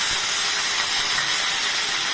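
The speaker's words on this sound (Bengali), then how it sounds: "তারপর কড়াইটাকে গরম করে অল্প তেল দিলাম, দিয়ে এবার এই সবজিগুলো" Vegetables hit hot oil in a wok with a loud, steady, bright sizzle that stays even throughout, alone and without talk.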